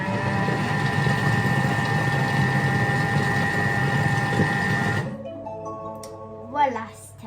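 Electric stand mixer beating marble cake batter with cocoa at speed 5, a steady loud whirring drone lasting about five seconds, then cutting out to quieter room sounds with a brief clatter near the end.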